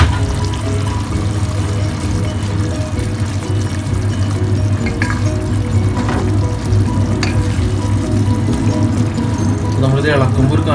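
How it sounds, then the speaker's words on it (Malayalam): Fried fish tipped into a boiling tamarind curry of ghee-fried fish, a loud continuous bubbling sizzle with pouring and stirring noise, close and steady throughout. "ഇപ്പോൾ നമ്മൾ ഒഴിച്ച വെള്ളം നല്ലപോലെ തിളച്ച് വന്നിട്ടുണ്ട്."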